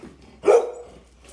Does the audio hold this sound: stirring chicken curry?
no